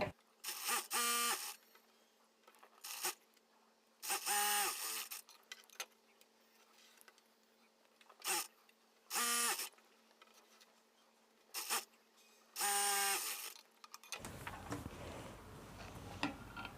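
Sewing machine stitching a seam on a size 36 blouse, several short bursts of rapid whirring stitches separated by quiet pauses, close and fairly loud, ending with a stretch of low background noise.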